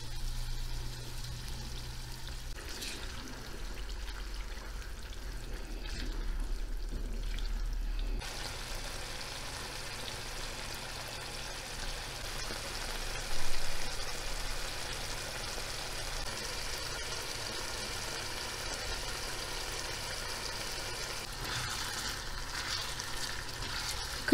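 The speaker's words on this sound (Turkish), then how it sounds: "Şimdi rendelediğim domatesi ilave ediyorum." Grated tomato and browned minced meat cooking in a pan, a long low steady sizzle with occasional faint stirring scrapes and a soft pour partway through, no talk.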